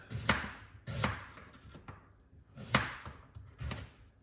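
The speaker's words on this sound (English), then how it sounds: "Beetroot, we're gonna cut them up." A knife chops through beetroot on a board in four distinct, fairly loud thuds at an uneven rhythm, close up and without talk.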